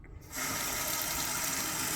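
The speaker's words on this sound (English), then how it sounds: "And I keep the water trickling." Cold water coming on at a household faucet, a soft hiss that starts suddenly and then runs as a steady close, even stream, and no one talks over it.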